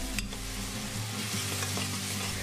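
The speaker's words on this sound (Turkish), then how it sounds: "Kokusu çıkana kadar ve hafif rengi dönene kadar kavuralım." Flour and chopped onions stirred and fried together in a pan for lentil soup, giving a steady close sizzle with scraping stir strokes throughout, no voices.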